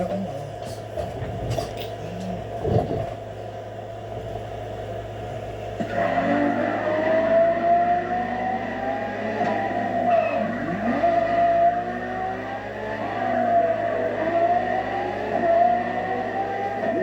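Engine of a lab-enhanced LaFerrari-style Ferrari supercar in a racing video game, a steady tonal drone joined by a sharper, rising whine and skidding tire squeal from about six seconds on, with some music-like tones underneath.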